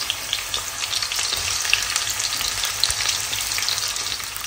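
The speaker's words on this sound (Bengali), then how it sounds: "এখন প্রথমে যেটা করব সেটা হচ্ছে আমি এখানে প্রথমে পেঁয়াজ দিয়ে দিব" Onions frying in a pan, a steady dense sizzle and crackle throughout with faint pops and a low hum underneath, close and fairly loud.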